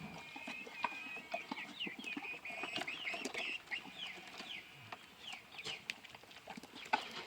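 A mother hen and her chicks on a homestead in the morning, with soft high peeping and cheeping from the chicks and occasional low clucks, faint and somewhat distant over a quiet outdoor background.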